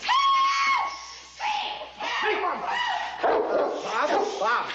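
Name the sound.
dog barking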